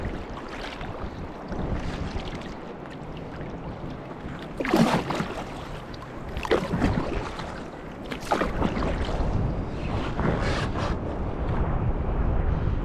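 Rushing water and wind noise from a moving boat, with periodic louder splashes as the hull slaps through waves, steady and close.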